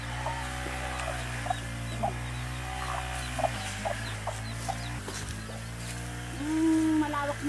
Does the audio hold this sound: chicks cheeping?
yes